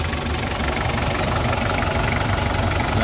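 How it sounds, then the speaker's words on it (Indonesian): A 2004 Mitsubishi Kuda Grandia diesel engine runs at idle, a close, steady, dense rumble with a faint knocking clatter, continuous and even from start to finish. "suara mesinnya juga masih gleses-gleses"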